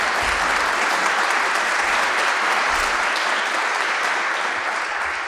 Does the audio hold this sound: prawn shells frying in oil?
no